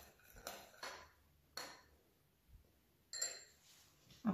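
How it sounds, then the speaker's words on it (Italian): A teaspoon clinks against a bowl while mixing dried, chopped basil with salt, giving a few sharp, scattered metallic taps between quiet pauses, close and fairly soft. "Con un cucchiaino miscelo."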